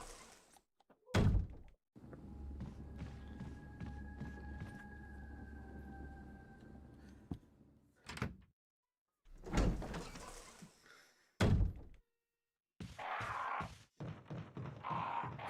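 A heavy door in the Resident Evil video game opens with a sharp thunk, followed by a long creaking, rumbling swing and several more thuds and clunks, with brief silent gaps between them.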